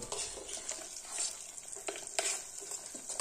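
Masala stirred into hot frying soybean and homemade groundnut oil for khichdi, a steady close sizzle with scraping stirs and light utensil clinks throughout, no voices.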